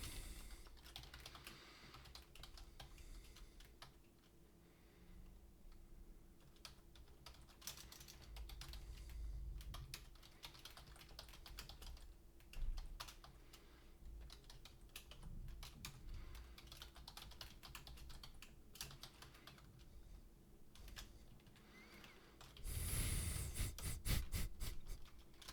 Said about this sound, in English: I am a complete disaster as far as typing goes.